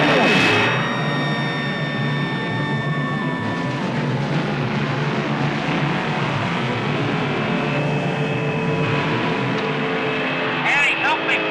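Car engine from the 1975 film Death Race 2000, a loud continuous motor roar with shifting pitch and passing whooshes, layered with soundtrack elements and voices talking over it.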